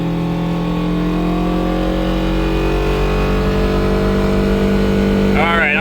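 A homemade micro van's engine hums steadily while driving in gear, a loud, even drone with harmonic whine from inside the cab and a brief voice near the end.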